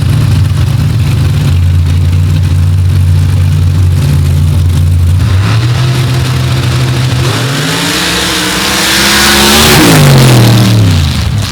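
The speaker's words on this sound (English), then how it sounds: "That Denny Bloom 552 cubic inch Ford going up against a massive 960 cubic inch Sonny's power plant with a 4-stage nitrous kit." A 552 cubic inch Ford drag car and a 960 cubic inch engine with a four-stage nitrous kit rumble at a loud idle at the drag strip, then rev up hard, the roar climbing in pitch and swelling near the end.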